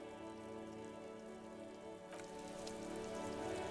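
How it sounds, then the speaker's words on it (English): Steady rain falls in the video game Disco Elysium, a dense, even hiss of drops on surfaces with a low tonal hum beneath it, continuous and unbroken throughout. "This rain will not let up anytime soon."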